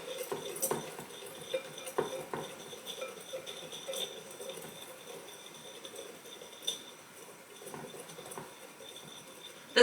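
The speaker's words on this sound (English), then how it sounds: "We're just going to whisk these together." Chili powder and other dry spices whisked together in a bowl, a quiet steady scraping and light clinking of the whisk against the bowl, with soft irregular taps throughout and no talking.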